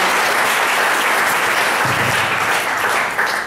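Dense, steady clapping from an audience at an award ceremony, loud and continuous throughout with little variation.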